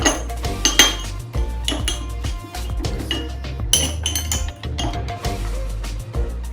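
Clinking and scraping of utensils against a bowl while mixing a honey and egg white face mask, busy irregular taps and knocks close up with no talk.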